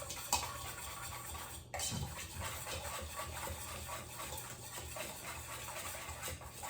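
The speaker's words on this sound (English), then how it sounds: "just gonna use this whisk and try to get those dry ingredients mixed up nice" A whisk stirring dry brownie ingredients, flour and baking powder, around a bowl, giving a steady close scraping and clinking texture that runs without pause through the clip.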